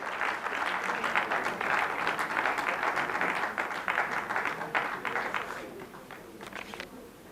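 A crowd at the Chandigarh Swachh Prerak Samman award ceremony claps to honour the chief guest, a dense, sustained round of applause that fades slightly toward the end.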